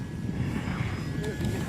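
A model Spitfire airplane takes off, its propeller engine droning steadily over a noisy outdoor crowd at a flying event, under a voice talking throughout.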